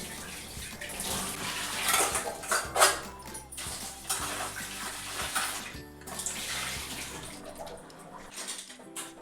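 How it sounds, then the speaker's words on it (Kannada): Water splashes and runs steadily while puja idols and metal utensils are washed, with occasional clinks and knocks of the vessels close by and no voices. "ಇವಾಗ ಎಲ್ಲ ತೊಳ್ಕೊಳಕತ್ತೀನಿ ಎಲ್ಲ ನೀಟಾಗಿ"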